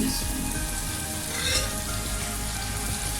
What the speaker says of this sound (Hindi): अब मैं इसके अंदर जो है वो दही ऐड करता हूँ